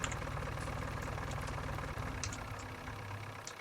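Farm tractor at a rainy 1962 grain harvest idles with a steady low chugging rumble, moderate in level, with a few faint clicks and taps over the running engine.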